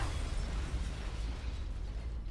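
A grenade explosion in the turn-based strategy game XCOM: The Long War, heard as a sustained deep rumbling blast with crackling debris that rolls on loudly for a couple of seconds and then begins to fade.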